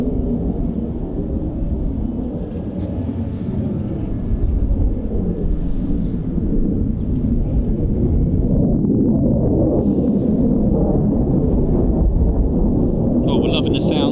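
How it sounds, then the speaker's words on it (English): A tractor works in the background at an airfield, a steady, broad low rumble holding for the whole stretch with slight swells and no talk over it. "Apologies for the noise in the background from the tractor"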